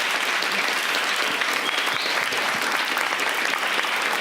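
A warm round of applause for panelists after a city debate in Seattle, dense and steady clapping from a large audience that stays at an even, loud level throughout.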